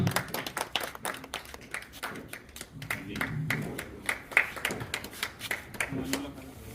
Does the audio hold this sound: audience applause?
yes